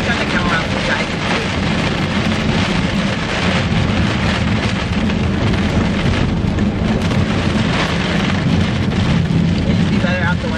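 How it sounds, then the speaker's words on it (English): Heavy rainstorm outside during a drive, a dense, steady roar of rain and wind filling the whole stretch at constant loudness, with no clear talking over it. "it is a crazy rain out here."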